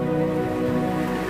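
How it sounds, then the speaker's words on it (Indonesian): Steady rain falling outside a family house during a stop, a continuous broad hiss with a low tonal hum running underneath, no voices. "Hujan ya teman-teman ya."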